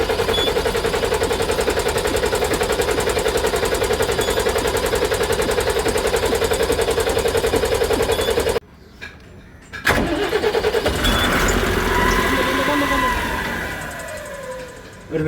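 A truck engine cranks with a loud, rapid, steady rhythm, goes quiet for about a second, then catches with a burst and runs at a rough idle that gradually eases down.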